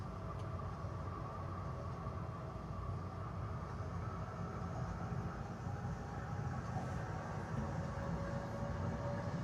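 Steady low rumble and hum inside an O-Train light rail car in Ottawa, continuous and even, with a faint whine above the droning wheels.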